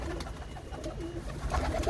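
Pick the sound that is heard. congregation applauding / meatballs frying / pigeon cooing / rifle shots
pigeon cooing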